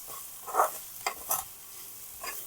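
Spices tempering in hot oil in a kadai while making raw banana pidupu, with a few scraping stirs of a spoon against the pan over a faint sizzle, close and quiet, no talk.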